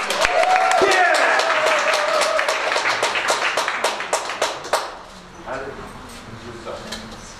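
Church congregation clapping together in a steady rhythm, loud and close at first, under sung and spoken voices, then thinning to scattered claps as it fades.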